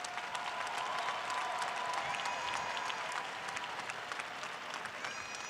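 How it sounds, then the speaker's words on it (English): A commencement audience at John Jay College applauds faculty and staff with steady, rather distant clapping from a large crowd, sustained throughout with a few cheers mixed in. "How about a round of applause for our faculty, staff who have consistently supported our graduates?"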